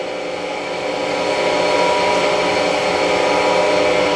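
A Cadillac 2260G 22 x 60 inch engine lathe headstock runs at higher speed, giving a loud, steady mechanical whine and hum that holds constant and rises slightly in level, with no talk.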